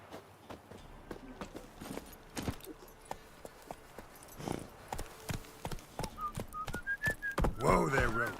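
Roach, the horse in The Witcher 3, clip-clops at a walking pace in an even rhythm of hooves. A rising whistle and a short whinny come near the end.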